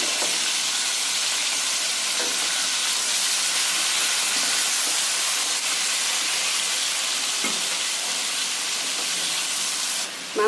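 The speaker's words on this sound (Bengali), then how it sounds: "এবার এগুলো আমি ভালো করে ভেজে নেব।" Chicken pieces rubbed with salt and pepper fry in hot oil, giving a steady loud sizzle and hiss throughout with a few faint clinks, no talking.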